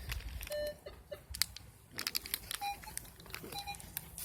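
Equinox 800 metal detector sounding short electronic beeps and signal tones over a field, scattered and fairly faint, with rustling and handling noise around them.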